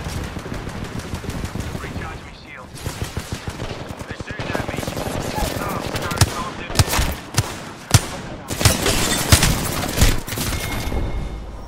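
Heavy Apex Legends gunfight with rapid automatic bursts and sharp single shots cracking close and loud over about twelve seconds, with short lulls and brief in-game voice lines underneath.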